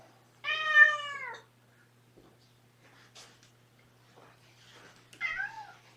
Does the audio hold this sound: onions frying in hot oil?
no